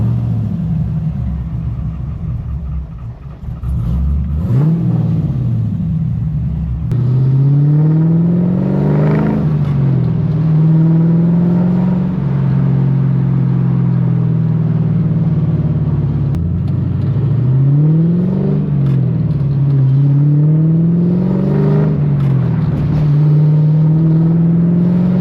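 An LS-swapped Infiniti G35 that has been smoking and running rough, driven on the road with a steady engine drone, several rising revs and gear changes, loud and close throughout.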